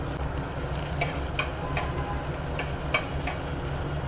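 Chopped garlic, green chilli and onion frying in white oil in a pan, a steady close sizzle broken by several light scraping taps of a stirring spoon.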